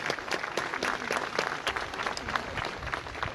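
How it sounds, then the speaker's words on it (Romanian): An audience claps steadily for the Bucharest Metropolitan Orchestra, a dense patter of many hands applauding at moderate volume throughout. "Vă mulțumim pentru aplauze"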